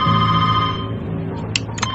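A loud electronic phone ring with a steady tonal buzz, followed by a couple of short higher beeps.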